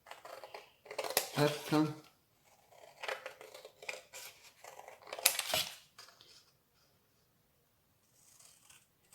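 Paper cut by hand with scissors for a Christmas album page, a few short crisp snipping runs up close, broken up by quiet gaps, with someone speaking French in between.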